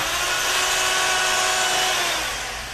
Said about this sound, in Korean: 곰팡이가 끼기 쉬운 줄눈은 청소하거나 덧칠이 아닌 전동 공구로 줄눈을 제거 후에